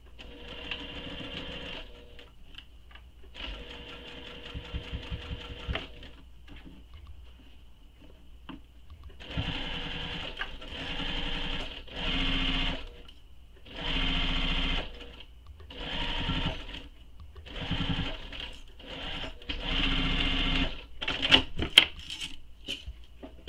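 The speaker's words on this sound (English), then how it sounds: "So I'm going to sew this top straight edge with the seam allowance given in the pattern." A sewing machine stitches the top straight edge of a fabric clutch at the pattern's seam allowance, running in a series of short, close bursts separated by brief pauses, with the pace quickening toward the end.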